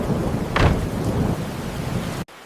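A thunderstorm with heavy rain, a steady loud wash of rainfall broken by a single sharp crack of thunder about half a second in, with no voices.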